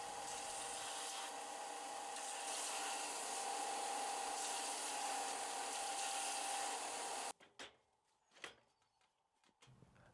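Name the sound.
sander rounding over the ends of wood pieces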